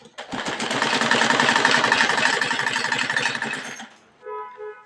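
Sewing machine stitching a sleeve onto a simple kurti, a steady rapid mechanical whir of needle strokes for about four seconds that stops abruptly, followed by a short quieter mechanical tail.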